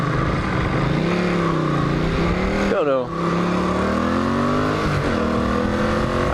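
A Honda CX500 or Kawasaki LTD440 motorcycle engine runs close by with a steady mechanical drone and slight revs, a possible worn coolant fan bearing adding noise, while someone speaks briefly over it.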